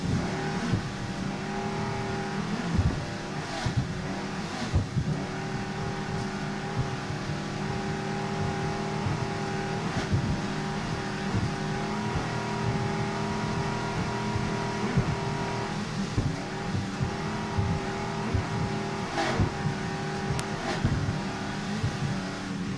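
A 29-foot Warlock powerboat racing in a grand prix over bumpy water, its engines roaring loud and continuous with steady drone and repeated thumps and spray bursts as the hull slams the waves.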